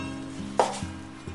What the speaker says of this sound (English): I'm going to get the wok extremely hot, and I'm going to fry these cubes of steak